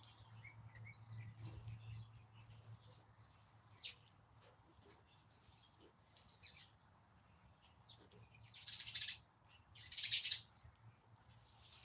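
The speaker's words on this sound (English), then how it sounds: "Ooh, the birds are really starting to come in." Small birds chirp and tweet in short, scattered bursts around a backyard bird feeder, faint and somewhat distant, with a couple of louder flutters or calls near the end over a low steady hum.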